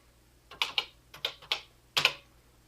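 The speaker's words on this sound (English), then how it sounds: "so now I'm going to type in cload M." Keys pressed on a Tandy TRS-80 Color Computer 2 keyboard while a command is typed, six close, crisp clacks in uneven pairs over a faint background hum.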